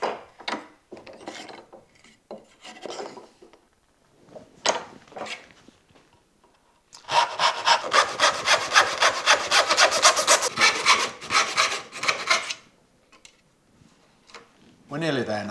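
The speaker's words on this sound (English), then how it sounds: "pick up the dovetail saw to cut the shoulders of the socket to take Dovetail number 5" A dovetail saw cuts the shoulders of a socket in wood with steady, rhythmic back-and-forth rasping strokes. A voice speaks with tapping sounds in the first half before the sawing begins.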